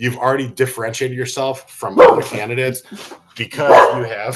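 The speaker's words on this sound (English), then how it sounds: "that's my dog barking, of course." A pet dog barks a couple of sharp, loud times in the background while a person keeps talking over it.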